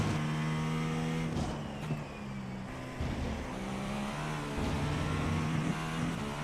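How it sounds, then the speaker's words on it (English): A GTP prototype race car engine in iRacing drones and shifts steadily, its harmonic pitch rising and falling as it accelerates and brakes through corners, loud and continuous with no talk. "Car sounds very funny to me."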